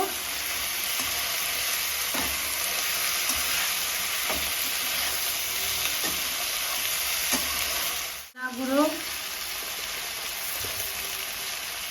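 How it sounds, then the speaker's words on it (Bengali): Fish head and pumpkin greens sizzle steadily in a pan as turmeric and salt are stirred in, with soft periodic scrapes; a brief dip near the end gives way to the continuing fry. "আবার এটা মিক্স করে নেব"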